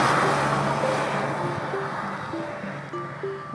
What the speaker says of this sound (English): There's something amazing about that air-cooled sound.